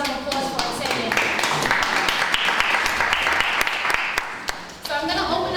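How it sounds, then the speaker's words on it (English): An audience at a forum session claps steadily for several seconds, a dense, even wash of applause that fades briefly near the end and then picks up again. "definitely give yourselves a round of applause for attending"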